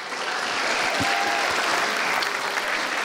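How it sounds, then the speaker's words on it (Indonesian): Audience applause for a stand-up comedian, with a crowd clapping steadily and evenly at close range for about three seconds. "Sekali lagi tepuk tangan buat Vianita."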